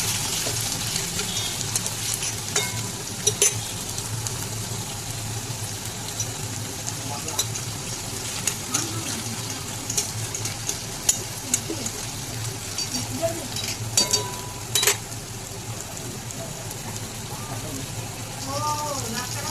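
Boiled ivy gourd (kundri) seasoned with salt, turmeric and sugar frying in a pan, a soft continuous sizzle with occasional stirring scrapes, with a voice talking over it.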